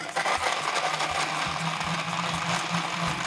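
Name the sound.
blender crushing ice for frozen cocktails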